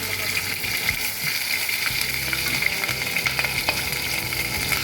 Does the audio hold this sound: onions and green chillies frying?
yes